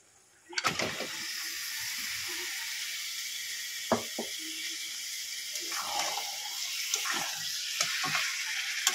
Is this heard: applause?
no